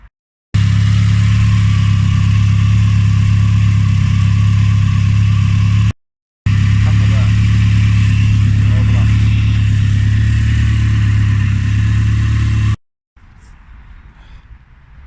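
A Saab B204 engine fitted in a Vauxhall Corsa B project car runs steadily with a loud, even drone, cut by a short break and then shutting off into quiet background noise near the end.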